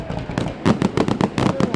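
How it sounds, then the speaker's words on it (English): Fireworks at the 2018 Lakeland Christmas parade, a rapid run of sharp cracking bursts in quick succession, loud and close. "Fireworks."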